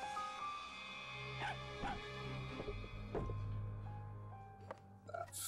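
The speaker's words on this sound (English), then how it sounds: "That fucking dog." Dog barking and yipping in the video game Post Mortem, a few short yelps and whimpers set over a steady low ambient game drone.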